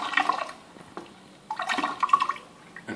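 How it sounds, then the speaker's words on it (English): Water from a 20 to 25 litre container is poured into a ZLF100/150AC unit, giving two short bursts of close gurgling, splashing flow separated by a brief pause. "poured into the unit as required"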